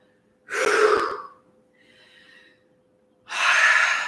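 Deep, audible breaths taken during a yoga class. A long, breathy inhale is followed by a quiet pause, a soft airy sound, and then a second strong breath, all close to the microphone.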